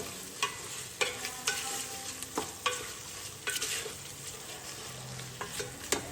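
Masala with garam masala, chilli powder and salt being sautéed in a pan on low flame, a soft steady sizzle under repeated scraping and clinking stirs of a spoon, close and without talking.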